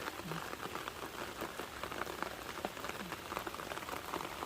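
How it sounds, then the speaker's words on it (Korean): Heavy monsoon rain falls on potted lotus-shaped rock succulents, a soft, dense patter of drops that hisses steadily and quietly throughout. "비가 엄청 내리고 있네요"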